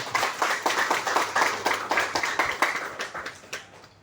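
Audience clapping loudly and steadily for about four seconds at a live talk or seminar, a dense rhythmic patter of many hands filling the room, with no talking over it.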